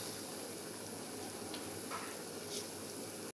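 Fried fish added to a simmering tamarind fish curry, a steady soft bubbling sizzle with a few faint splashes and stirs, heard alone and fairly close.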